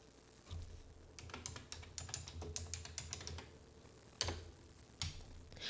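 Fingers type on a computer keyboard, a quick run of light clicking keystrokes followed by a pause and two isolated heavier taps, close by and fairly quiet.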